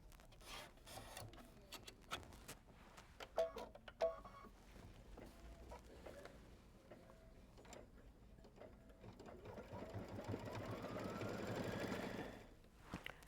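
An embroidery machine stitches in its hoop with faint, intermittent clicks and mechanical ticks, building near the end into a louder sustained whirring run before stopping abruptly, all fairly quiet and without talk.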